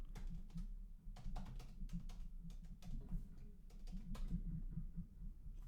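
Quiet, quick clicking of keys on a computer keyboard as a password is typed, a steady patter of soft taps over a low hum.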